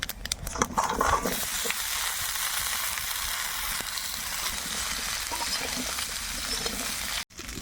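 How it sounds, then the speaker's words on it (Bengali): Cut vegetables for shukto frying in ghee with a tempering of bay leaf, dry chili and fennel: a loud, continuous close sizzle with brief stirring clatter at the start and a momentary break near the end. "ফোড়নে দেবো তেজপাতা শুকনো লঙ্কা মৌরি কেটে রাখা সবজি"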